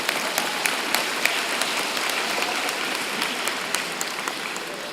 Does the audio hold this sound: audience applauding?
yes